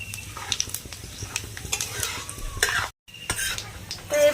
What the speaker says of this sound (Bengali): একটু ভালোভাবে নেড়ে চেড়ে নেব।